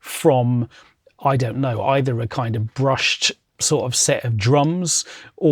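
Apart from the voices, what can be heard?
None of the usual background noises is heard.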